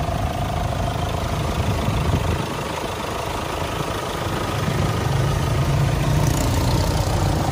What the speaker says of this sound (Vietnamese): Đây là tiếng động cơ đang hoạt động đây.